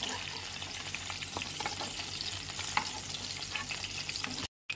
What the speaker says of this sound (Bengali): এবার পটলটাকে আলাদা করে ভেজে তুলে নেব।